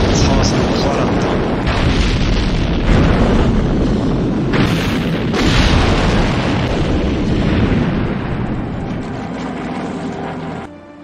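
A large explosion from the James Bond film You Only Live Twice, a loud sustained roar of blasts and rumbling debris with repeated booming surges, dense and close, tailing off near the end.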